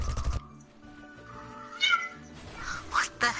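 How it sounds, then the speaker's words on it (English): A house cat meows several times during a live-streamed game session, clear mewing calls rising over quiet background game audio, with a louder burst of noise at the very start. "What the heck is my cat meowing about?"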